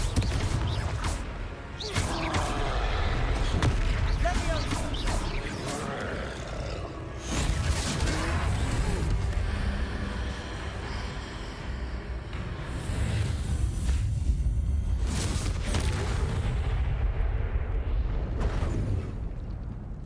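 Confringo explosive spell bursts in Hogwarts Legacy during a troll fight: a few loud blasts and crashing impacts over dense game noise and rumble, with brief quieter gaps between the hits.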